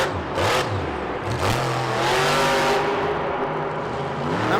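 A monster truck's big engine revs hard during a Monster Jam freestyle run in a Houston stadium, loud rising and falling roars that climb in pitch over several seconds, with no talk.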